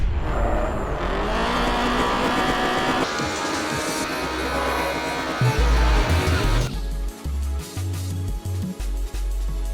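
A race car in the indie racing game Night-Runners accelerates hard from the start line, its engine revving loud and rising, with tire squeal and engine roar that then change into a pulsing drone.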